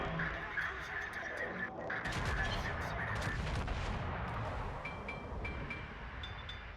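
Naval gunfire in a warship battle game, with the ARP Kongo battleship in play: repeated booming shots and rumbling impacts over steady combat noise, moderately loud, with a few short chirping alert tones.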